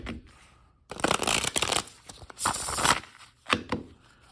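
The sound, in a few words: shuffling plastic playing cards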